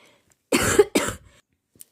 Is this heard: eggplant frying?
no